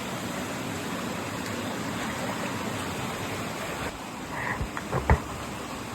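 Rushing water at Balinarin Falls, a continuous broadband roar of falling water and stream flow, steady throughout with a few brief splashes or knocks near the end.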